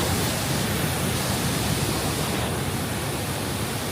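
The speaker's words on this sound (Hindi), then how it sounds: "कितना तेजी से पानी नीचे जा रहा है।" Sanghagra waterfall roaring close by, a steady, loud broadband wash of rushing water that holds unbroken throughout with no pauses and no voices.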